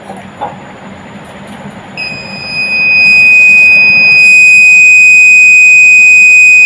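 A rain sensor alarm, set off when water drops land on it, starts after a quiet moment: a loud, steady high-pitched electronic beep that holds without a break.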